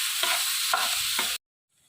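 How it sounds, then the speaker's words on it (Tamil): A tamarind rice mixture being stirred in a pan, with three scraping sweeps over a steady sizzle that then cuts out abruptly into near silence. "இப்போ இது எல்லாத்தையும் இதோட சேர்த்து மிக்ஸ் பண்ண வேண்டியது"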